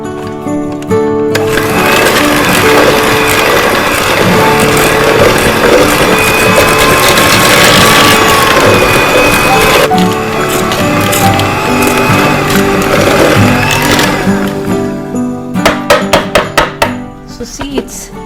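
An electric mixer briefly works cranberry and pistachio shortbread cookie dough in a bowl, a loud continuous whirring and grinding that runs steadily, then stops and gives way to a few clattering knocks.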